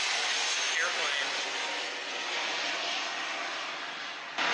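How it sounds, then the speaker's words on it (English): A fixed-wing airplane passes overhead near an airport, a loud steady broadband engine roar that fills the whole stretch and fades slightly near the end. "Airplane."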